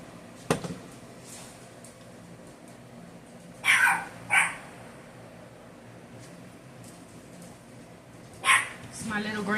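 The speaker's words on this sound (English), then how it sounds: "Don't mind the dogs, guys." A small dog barks and yips in a few short bursts around the middle and end, fairly near, over a low household background with people talking.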